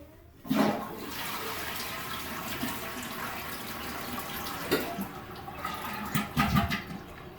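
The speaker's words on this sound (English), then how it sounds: "when we flush this, we shouldn't have any water or anything come around the side." A toilet flushes just after a new wax ring was fitted, water rushing and swirling loudly and steadily for several seconds, with a few louder gurgles near the end as the bowl drains and begins refilling.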